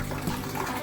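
Water from an RO purifier runs into a small clay pot (matka) in a home kitchen, a steady soft trickle and splash heard close by, faint and continuous, with no voices.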